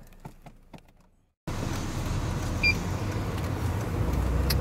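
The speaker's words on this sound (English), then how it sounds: "So now we can go ahead and drive the vehicle." After a few soft clicks, a car with an Aisin Warner 09G transmission under test starts being driven, with a steady low interior road and engine rumble continuing at moderate level.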